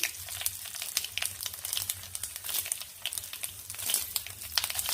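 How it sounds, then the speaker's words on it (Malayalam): Mustard seeds and urad dal spluttering in hot coconut oil for a mango dish, a dense, steady crackle of close popping that runs through the whole stretch with no voices. "കടുക് ഉഴുന്നെല്ലാം പൊട്ടുന്നുണ്ട്"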